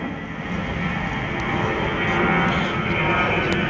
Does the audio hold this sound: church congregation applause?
no